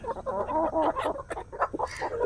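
Desi chickens on a free-range farm cluck steadily in a busy, overlapping flock, with close, fairly quiet calls that rise and fall without pause.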